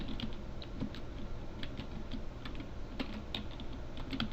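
Steady typing on a computer keyboard, close and continuous, with quick keystroke clicks and occasional heavier key presses under a constant background hiss.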